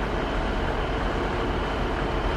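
A train stands at a railway platform on a line running toward Bristol, making a loud, continuous rumble and hiss that stays steady throughout.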